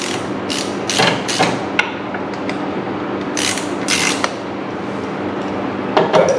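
A ratchet loosening a bolt during an oil and transmission filter change on a Can-Am Spyder, giving rapid metallic clicking bursts and small clanks of tools close by, with no talking.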